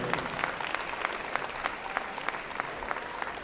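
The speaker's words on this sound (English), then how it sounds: "Cyclone fans, let's give these seniors a big round of applause for their contributions to Eastern View High School" Fans in a high school gym at a boys basketball game applaud the seniors with steady, moderately loud clapping from a crowd lasting throughout.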